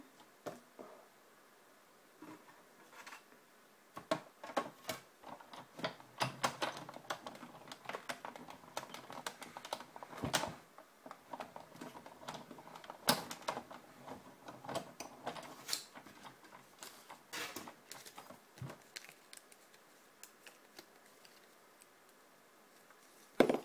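A Big Shot die-cutting machine is cranked through a cut with a die, giving faint, irregular clicking and ratcheting taps that run on for over twenty seconds in a quiet room.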